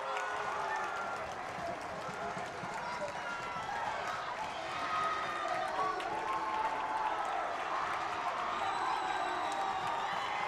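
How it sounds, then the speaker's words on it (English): A crowd at a high school hockey game between the Penn Kingsmen and South Bend St. Joe roars and cheers steadily in a big arena, with whoops and clapping, while a commentator talks over it. "We'll let the crowd take you home."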